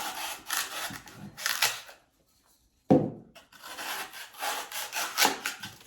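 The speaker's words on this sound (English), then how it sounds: "go ahead and take a knife and trim that back" A knife saws back and trims the base of a pumpkin topiary in a pot, making repeated close, gritty back-and-forth strokes with a brief silent pause midway before the rasping cuts resume.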